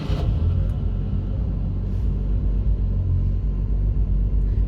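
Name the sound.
Jaguar E-Type Reborn engine starting up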